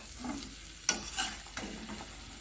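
Boiled potatoes and peas are stirred and sautéed in a pan for ghugni, with soft scraping stirs and a faint sizzle, marked by a few sharper clinks of the spoon against the pan.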